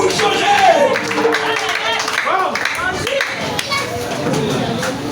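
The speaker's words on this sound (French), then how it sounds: "On applaudit mon Dieu, on applaudit mon Dieu" Rhythmic clapping from a group mixes with loud singing voices in French at a worship gathering, a busy, lively crowd sound throughout.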